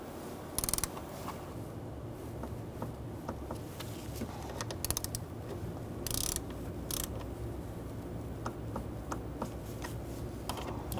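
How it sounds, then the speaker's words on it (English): Torque wrench with an 8mm socket tightening an idle air control valve to 89 inch-pounds on a 2000-2007 Ford Taurus 3.0L V6; close, sparse ratchet clicks and a few sharper snaps over a low steady hum, with no talking. "using an 8mm and a torque wrench, we're going to torque this to 89"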